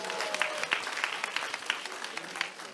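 Audience applause at a Democratic Party concert event in Daegu and Gyeongbuk, a steady crowd clapping with distinct claps throughout, moderately loud and continuous for nearly three seconds.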